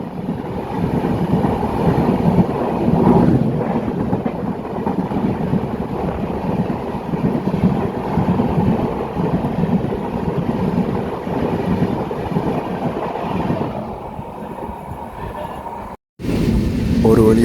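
The Netravathi Express passenger train starts to move slowly after a crossing, giving a steady loud rumble with wind noise from start to finish and a brief dropout near the end.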